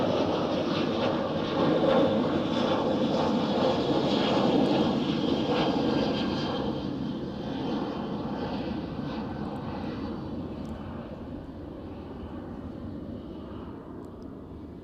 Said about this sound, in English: EasyJet already on the roll behind it, off to Belfast